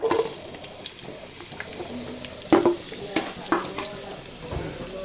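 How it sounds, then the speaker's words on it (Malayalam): Sliced onions go into hot oil for an egg biryani and crackle in a moderate sizzle, with a few sharp clatters of a spoon against the pan standing out along the way. "എണ്ണ ചൂടായിട്ടുണ്ട് നമുക്ക് ഇതിലേക്ക് സവോള ഇടാം"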